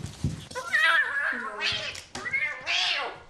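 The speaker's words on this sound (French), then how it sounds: "c'est l'heure de s'occuper des chatons, totalement apeurés" Frightened, never-handled kittens at a veterinarian's give loud, close, drawn-out distressed meows and wails, one after another, with brief pauses between calls.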